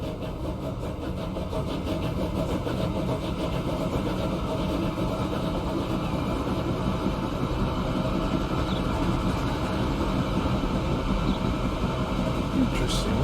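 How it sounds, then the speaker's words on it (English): A train rolls along the line in Transport Fever 2, giving a steady low mechanical rumble that holds evenly throughout beneath faint game ambience. "First train is rolling down the line."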